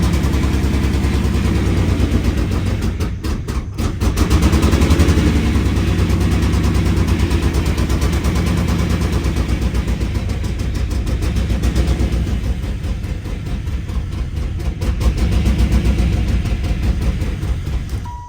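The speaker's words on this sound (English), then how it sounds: "I got a big exhaust leak." A 1995 Pontiac Firebird engine runs loudly and roughly nearby, with a raspy, uneven exhaust rumble from a large exhaust leak and occasional revving, no one speaking.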